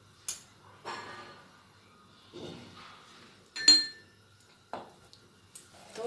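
A lid goes onto a pot of sugar syrup on a high flame, giving sharp metallic clinks and clatters at scattered moments with quiet gaps between them, close by.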